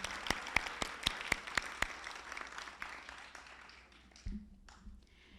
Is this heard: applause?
yes